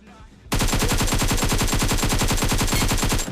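Rapid automatic gunfire in the battle royale game BGMI, a loud, steady burst of evenly spaced shots lasting about three seconds after a brief quiet lead-in.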